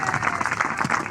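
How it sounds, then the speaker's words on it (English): A brief burst of crowd applause and clapping greets the diggers at a stadium expansion groundbreaking, busy and fairly close, lasting only about a second. "Let's give them a round of applause."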